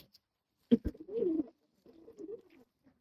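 A pigeon coos twice nearby, low throaty rolling calls after a couple of sharp flapping knocks, in otherwise quiet surroundings.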